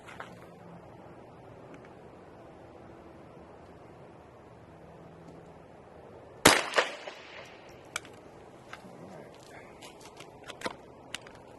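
A Marlin 60 rifle fires one sharp, loud shot partway through an otherwise quiet outdoor stretch, followed by a few fainter clicks and knocks as the semi-auto action fails to cycle.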